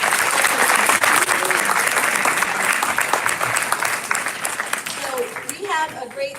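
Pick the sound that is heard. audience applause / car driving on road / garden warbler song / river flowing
audience applause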